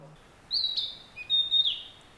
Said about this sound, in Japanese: 鮮やかな黄色の姿でさえずりを響かせているのは